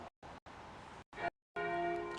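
Church bells ring faintly and distantly in short broken fragments, with a sustained, resonant chime toward the end, following medieval Ambrosian chant.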